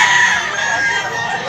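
Gamefowl roosters in a yard in Tabunok, Cebu, let out a loud, close, drawn-out crow lasting the whole brief moment, bright and sustained with slight wavering.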